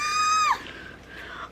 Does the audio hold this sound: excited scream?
yes